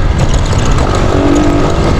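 A motorcycle engine winds down as the rider eases off, a dense, steady close-up roar with a faint whine, with no pause or gap throughout.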